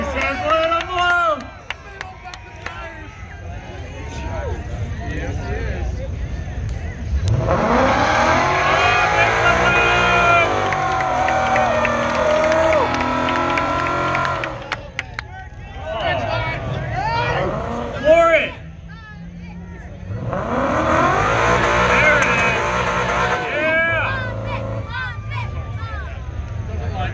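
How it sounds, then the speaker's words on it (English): A VMP Mustang holds a standing burnout at a burnout contest, its engine revving hard in two long, loud roaring bursts. Between the bursts the engine drops back to a rough idle while a crowd cheers and people talk. "All right, going for the standing burnout."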